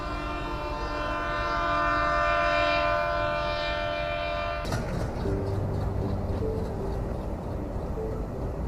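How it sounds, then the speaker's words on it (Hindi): Indian Railways Punjab Mail passenger train, with a long, loud horn blast over heavy rolling rumble that gives way abruptly to clattering wheels and wagon noise, close by and with no talk. "तो ये है वो पंजाब मेल जो आज़ादी से पहले बॉम्बे से लाहौर तक जाती थी।"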